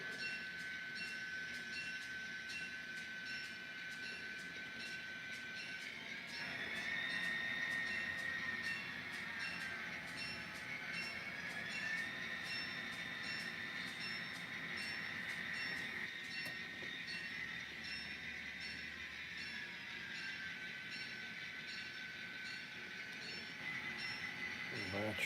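A model train rolls slowly along the track toward the caboose, with a faint steady motor whine and a rising and falling hum, quiet and close, while someone talks briefly.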